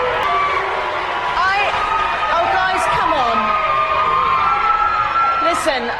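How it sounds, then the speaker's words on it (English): A large television studio crowd at a Big Brother eviction makes loud, sustained noise, a dense roar with rising calls and jeers that may include booing, mixed with talk throughout. "it's hard coming out when people are booing"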